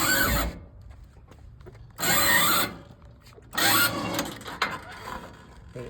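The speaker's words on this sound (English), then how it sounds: "The winch has to drag the bike along in neutral." An electric winch drags a motorcycle in neutral onto a Rampage power lift ramp, giving three loud, close mechanical whirring pulls of one to two seconds each, separated by quieter pauses with faint rattles.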